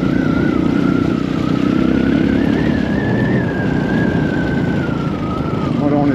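A motorcycle rides steadily along a dirt track on Mont Mandray near Antsirabe, Madagascar, its engine droning loud and close with a wavering whine throughout.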